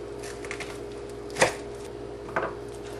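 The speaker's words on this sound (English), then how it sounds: "So I got these little baby onions, and we'll be cutting them into quarters." A knife cuts small baby onions into quarters on a board, giving two short, sharp chopping knocks spaced about a second apart over a quiet kitchen background.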